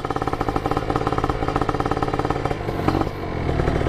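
A motorcycle engine fitted with an Acti Racing Cobra exhaust with a 41 canister idles with a loud, rapid, throbbing rumble, close up, rising slightly near the end.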